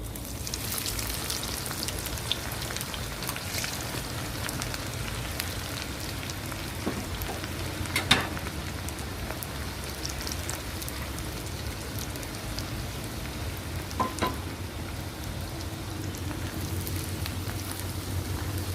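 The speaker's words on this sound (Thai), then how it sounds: "ต่อไปก็นำหอมแดงมาเจียวต่อเลยนะคะ" Shallots frying in hot oil for a Thai chili dip, a steady broadband sizzle running throughout with a couple of brief louder pops, no talking.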